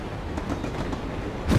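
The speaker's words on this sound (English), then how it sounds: "Can we take the train? Let's take the train." In The Amazing Spider-Man 2 video game, a train rolls along its rails with a steady low rumble and faint rhythmic clatter, close and continuous, swelling slightly at the end.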